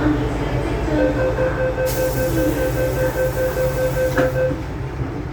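MTR Tsuen Wan line M-Train pulling into a Hong Kong station with a steady rumble of wheels and motor, thin tonal whines and brief squeals, under a platform announcement.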